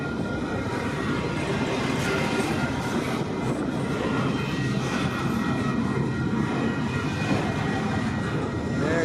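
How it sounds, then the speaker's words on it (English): Two trains pass each other at a rail meet, one a westbound container train, making a continuous loud rumble and roar of wheels and cars that stays steady for the whole stretch. "Train meet, all right."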